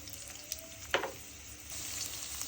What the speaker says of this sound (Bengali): তো তেল গরম হয়েছে, দিয়ে দিব পেঁয়াজ কুচি